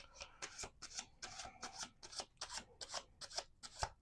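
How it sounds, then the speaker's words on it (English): Quick, papery riffles of tarot cards being shuffled repeat in a steady rhythm, close and fairly quiet, with no voices. "Last shuffle."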